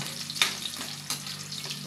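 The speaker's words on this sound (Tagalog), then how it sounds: "Umuusok-usok na. Kumukulo na sa init. Prito-prito na." Onion and garlic sizzle steadily in hot oil, a constant crackling hiss broken by a couple of sharper scraping stirs.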